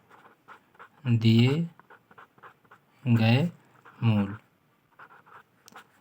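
Chalk taps and scratches against a classroom board as a teacher works on a quadratic equations solution. Short writing strokes fall in the gaps between bursts of the teacher's talk.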